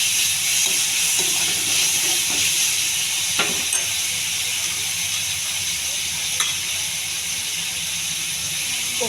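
Curry leaves and cumin frying in oil until golden give off a steady, close hiss and sizzle for a potato and pea curry. Faint stirring taps break through now and then, with no clear voice.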